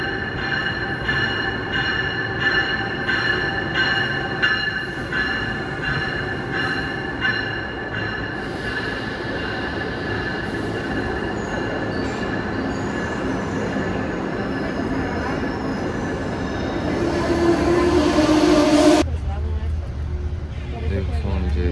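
Inside a moving passenger train travelling between Philadelphia and Boston, a steady rumble and whine of wheels fills the carriage with faint squealing tones. Near the end the noise shifts abruptly as the sound changes.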